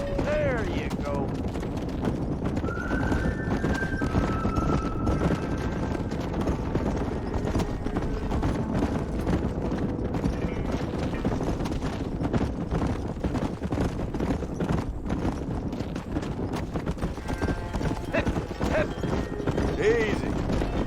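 Horse hooves clip-clop steadily across Red Dead Redemption's open ground, a dense rhythmic patter running the whole time beneath occasional voices and game ambience.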